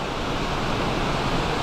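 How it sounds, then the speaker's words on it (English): Sparty Foss waterfall rushes in a steady, dense roar of falling water, loud and unbroken throughout with no voices. "This is the next waterfall."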